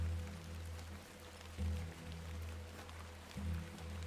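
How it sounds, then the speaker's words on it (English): Rain falls in The Excavation of Hob's Barrow, a soft continuous patter and wash heard faintly throughout, with a steady low hum beneath and a couple of slightly louder swells. "Let's get out of the rain."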